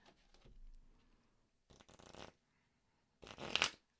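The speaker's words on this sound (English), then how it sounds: "See if that'll shuffle better now." Tarot cards riffled and shuffled from a bent deck, giving a few short bursts of papery fluttering, the last one loudest and closest, separated by quiet pauses.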